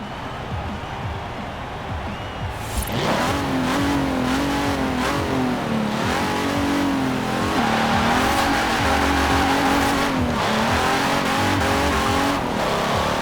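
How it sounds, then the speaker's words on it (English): A 1952 Hudson Hornet in Forza Horizon 4 accelerating down a drag strip, engine roaring loud and close through repeated rising revs and gear shifts, with brief tire squeal at launch. "it wouldn't be a Hudson Hornet if I wouldn't take it down the drag strip at least once"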